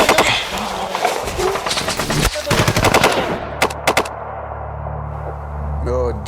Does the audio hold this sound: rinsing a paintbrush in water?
no